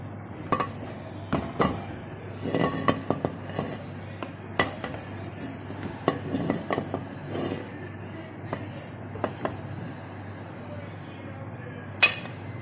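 A metal spoon scrapes and clinks against a dish and pot while chicken white pulao rice is served out, in irregular clattering taps with soft stirring between them and a faint steady hum underneath.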